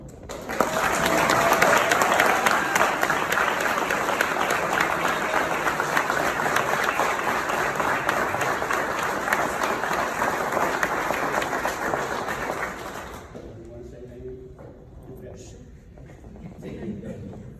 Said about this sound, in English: Please give a round of applause for our Paul Harris Fellow, Jennifer Plummer.